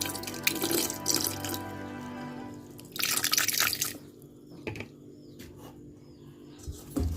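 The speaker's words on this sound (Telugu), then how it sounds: "చక్కగా వీటిల్లో ఈ ముక్కలన్నిటినీ కడగాలి" Pieces of snail meat are washed by hand in water with lemon juice and curd, heard as close splashing and sloshing in bursts with drips and small knocks between them.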